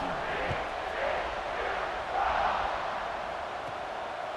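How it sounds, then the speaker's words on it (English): A stadium crowd in the College Football 26 video game cheers at a kickoff, making a broad, steady roar that swells slightly partway through. "this crowd now ready to get behind them"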